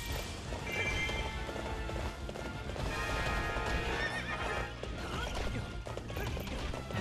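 Horse from the Hyrule Warriors video game whinnies loudly amid steady clip-clopping hooves and a crash, all dense and continuous with game music for the whole stretch.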